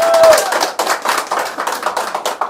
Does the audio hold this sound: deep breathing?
no